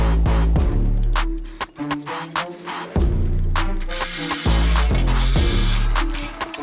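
A ratchet with a 10mm socket tightens bolts on an aluminum gear rack inside a Sprinter van's rear door, giving loud, close bursts of rapid clicking with short pauses between turns.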